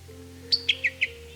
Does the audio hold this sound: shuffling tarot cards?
no